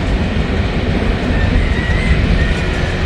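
A freight train with a heritage unit rolls past on the tracks, a steady loud rumble of wheels and cars filling the space throughout, close by with no pauses.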